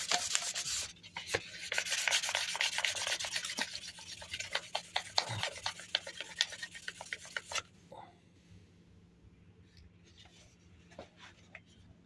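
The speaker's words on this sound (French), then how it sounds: "une fois fini de poncer" Fine wet-and-dry abrasive paper rubs briskly by hand on a brass 12mm shell casing being polished for a bottle opener, a close scratchy swishing that stops partway through, leaving a quiet room with faint voice.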